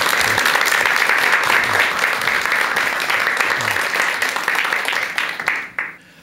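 An audience applauds loudly and steadily at the start of a lecture, many hands clapping together, then the applause fades out at the end.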